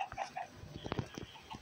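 Short chicken clucks from the Minecraft video game, a few quick faint calls in a brief burst.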